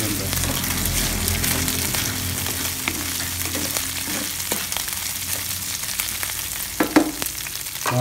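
Chicken breast and vegetables fry in a pan, a continuous crackling sizzle with occasional stirring clatter and a brief louder knock near the end.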